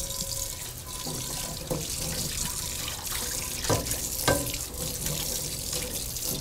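Tap water runs steadily into a pan at a kitchen sink while asparagus is being prepared, a continuous close splashing stream with a few brief clinks of the pan, and no talking.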